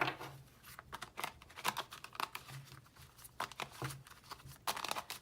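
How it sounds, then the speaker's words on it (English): Soft, rapid papery riffling and tapping of cards being shuffled, quiet and close, in irregular bursts with no talking. "let's give these cards a shuffle"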